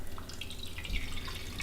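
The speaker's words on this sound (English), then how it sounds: "So we're going to get some clean water in this bowl" Clean water trickles into a shallow bowl in a home kitchen, a soft, close, steady run of light splashing and dripping with no talk over it.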